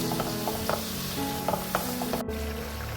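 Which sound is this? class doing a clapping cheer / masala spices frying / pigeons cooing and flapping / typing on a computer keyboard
masala spices frying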